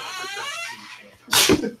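A single sharp sneeze bursts out near the end, loud and close, after a stretch of voiced murmuring during an online meeting.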